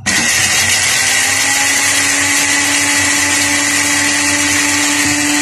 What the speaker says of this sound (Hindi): इसको मसालों को ग्राइंड कर लेते हैं।